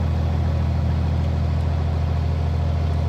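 Narrowboat engine running steadily on a river, a continuous low throbbing drone with a fairly loud, even hum and no speech.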